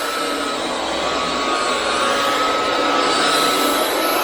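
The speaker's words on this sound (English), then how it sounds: "So Joy's using the belt sander to smoothen this all out" A belt sander smooths a surface during a house build in Thailand, a loud, steady whining roar with no break and no speech.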